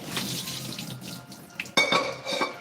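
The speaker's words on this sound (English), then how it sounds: "Drain our noodles in some cold water." Cold tap water runs into a kitchen sink to drain and rinse rice noodles, a steady splashing stream that gets louder and clatters briefly as a pot or strainer shifts.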